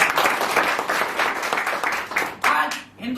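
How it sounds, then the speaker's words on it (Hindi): An audience at a direct-selling marketing business meeting claps loudly and steadily for about two and a half seconds, a dense crowd applause that then tails off into quieter sounds. "मैं चाहूंगा इस डायरेक्ट सेलिंग के लिए एक बार जोरदार ताली हो"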